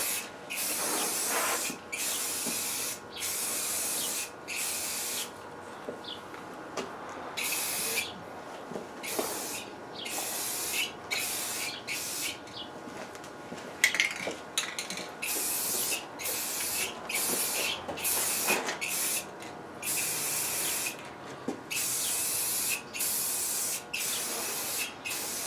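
Spray paint applied to a Ford F-150 fuel tank in repeated short bursts, loud close hissing blasts with brief gaps between them, a few longer sustained sprays, no talking.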